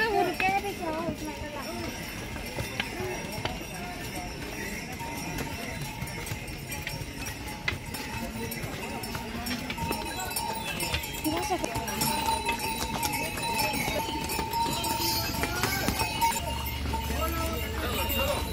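Horses on the Kedarnath trek footpath, with hooves clopping on stone steadily throughout amid crowd chatter and background murmur; people talk nearby, and the scene stays busy and moderately loud.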